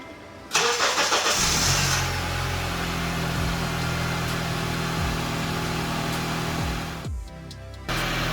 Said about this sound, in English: 2004 Honda Element remote start by New Start.